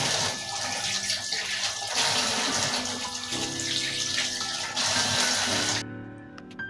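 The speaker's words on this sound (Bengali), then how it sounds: "এবার আমি লাউ পাতাগুলোকে ধুয়ে নেবো," Bottle gourd leaves are washed one at a time under running tap water, a steady, close rush of water with shifting splashes that cuts off abruptly near the end.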